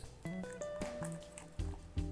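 Thick, hot pastry cream for chocolate eclairs is stirred in a pan, giving soft, wet squelches and gloopy plops in an uneven rhythm, close and moderately quiet.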